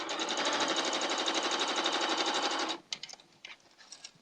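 A sewing machine stitches quilt fabric in a rapid, even mechanical chatter for nearly three seconds, then stops, leaving a few soft clicks and handling sounds.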